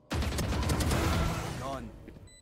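Gunfire crackles in a tactical shooter video game round, a dense burst of rapid shots and impacts that tails off within about two seconds.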